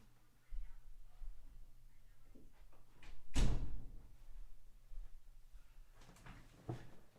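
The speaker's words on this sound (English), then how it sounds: "I'm just going to grab the door" A door is pulled shut in a small living room during a home concert: one sharp thud midway, with faint background noise throughout.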